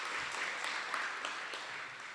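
Steady applause from a seated audience at a university faculty research day fills the hall, a soft, continuous wash of many hands clapping at moderate distance.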